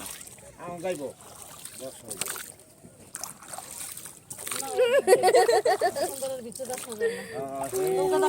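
A small boat moves across water at Purbachal 300 Feet, with splashing and sloshing that build up toward the end. People talk throughout.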